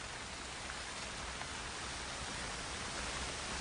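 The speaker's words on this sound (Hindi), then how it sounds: "इस बात में कोई शक नहीं कि ऐसी बारिश हौसला तोड़ देती है।" Heavy jungle rain pours down in a dense, steady, unbroken hiss that stays loud and even throughout, with no voices.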